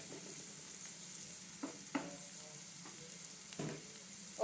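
Potato omelette sizzling in a pan, with eggs poured over the vegetables, makes a steady close frying hiss broken by a few sharp crackles and pops, with no one talking.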